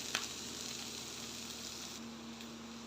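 Bitter gourd frying in a small amount of oil, a steady, fairly quiet sizzle that continues without pause and with no talking, a brief click near the start.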